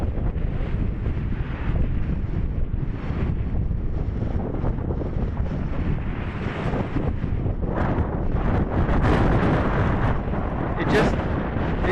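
Strong outdoor wind buffets the microphone in a loud, continuous rumbling roar with gusty swells, and faint voices are buried in the noise.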